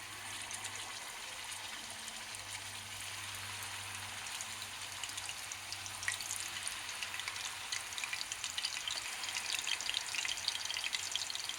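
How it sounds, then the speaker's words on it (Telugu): Koftas frying in hot oil, a steady close sizzle and crackle that holds at an even level throughout and picks up slightly toward the end. "ఈలోగా మనము ఈ కోఫ్తాలు వేయించుకుందామండి."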